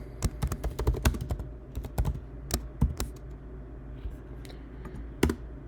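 Irregular bursts of computer keyboard typing while code is entered, crisp close key clicks in quick clusters with short pauses between, and a final lone sharp tap.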